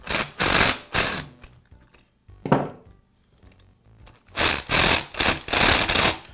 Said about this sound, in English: and then tighten up the screws.